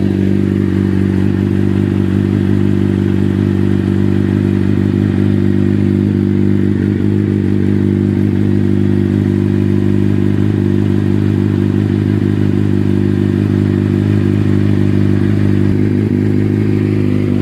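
Steady, loud idle from a Kawasaki Z800 motorcycle with a Yoshimura exhaust, a deep, even burbling rumble close by that holds constant throughout with no voices.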